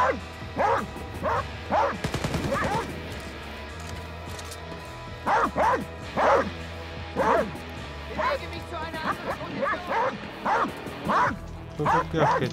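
Dog barking in the shooter game Wolfenstein: Youngblood, at a Nazi outpost: repeated sharp barks in irregular bursts, some yips and a crash between them, with game noise and a voice underneath.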